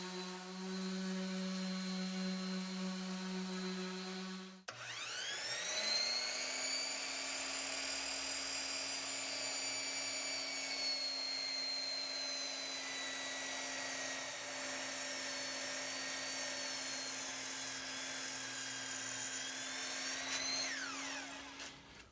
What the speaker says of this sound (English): I've sanded this down with my orbital sander